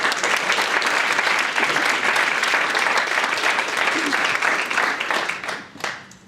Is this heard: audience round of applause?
yes